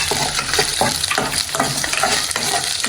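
Whole spices such as cinnamon and cloves sizzle and fry steadily in a hot pan for goat leg soup, with loud, continuous crackling and rhythmic stirring scrapes throughout and no voices.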